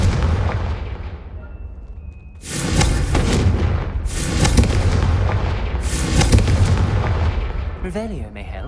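Confringo fire spell explosions in the Hogwarts Legacy video game, heard as three loud, booming blasts about 1.7 seconds apart over a dense, rumbling background, ending in a brief whooshing magical flourish.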